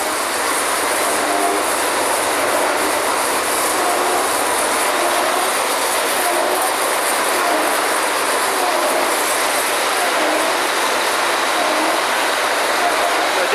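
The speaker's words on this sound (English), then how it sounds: "The diesel engines." Diesel engines run at a well drilling rig, the Bynum Well No. 4 site of North American Drilling Corporation, giving a loud, steady, unbroken mechanical roar with no speech.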